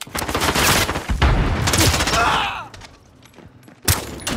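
Rapid gunfire from a first-person shooter game crackles in dense bursts with booming shots, loud and close, then drops to quieter game sounds before a final sharp burst.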